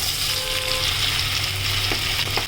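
Tomatoes sizzle steadily in a hot pan while tomato pickle is cooked, a continuous close, loud frying hiss with a few faint clicks and no talking.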